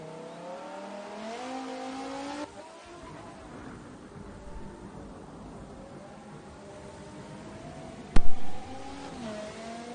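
Race car engine heard from on board during a sim racing lap at Silverstone, droning steadily through corners with pitch sweeping up and down as it revs, a brief sharp burst near the end.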